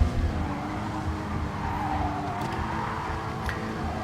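A race car engine in Gran Turismo Sport during a FIA Manufacturers Series race, a steady loud droning whine that holds its pitch with slight rises, plus faint tire noise and brief higher whooshes near the end.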